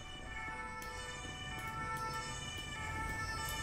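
An ambulance siren in a GTA FiveM police roleplay game wails steadily at moderate distance under low engine and street noise.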